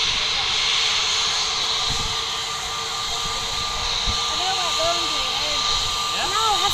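A passenger jet at Manchester Airport produces a steady loud whining hiss with a sustained tone, heard near and continuous, with brief bird chirps toward the end.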